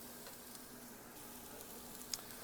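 Chopped onions frying in a pan for tacos, a faint steady sizzle with soft crackle and one small tick near the end, with no talking.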